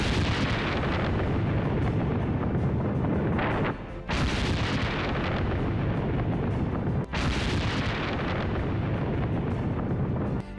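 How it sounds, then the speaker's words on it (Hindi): An air strike explosion destroys a Hezbollah structure, with a continuous heavy roar of blasts and debris, broken by two sharp booming impacts, loud and close throughout. "धमाके में तबाह हो जाता है।"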